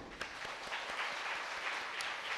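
A congregation listening to a sermon by a priest breaks into brief, fairly quiet applause, a short patter of many hands clapping at once.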